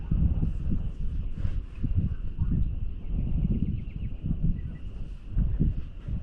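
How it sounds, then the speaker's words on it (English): Steady gusting wind buffets the microphone during garage roof sheathing, a loud low rumble that surges and eases throughout, with a faint high tone running behind it. "and now it's windy"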